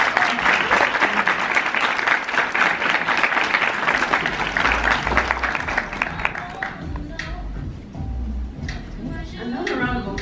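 A panel event audience applauds, dense clapping loud at first and thinning toward the end, with voices cheering and talking over it.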